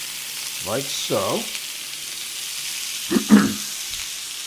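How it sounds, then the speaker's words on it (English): Well-strained frozen vegetables sizzle in a cast iron skillet with a steady, even hiss throughout, while a person speaks briefly over it. "we're going to immediately get them into our cast iron skillet"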